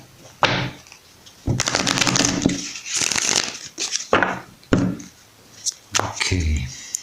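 Tarot cards being shuffled nearby in several quick riffling bursts with short pauses between them, sharp papery rustles and snaps.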